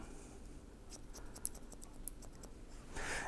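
Scissors cutting hair along a design line during a modern shag haircut: a quiet run of short, crisp snips at an uneven pace, close by, with no talking.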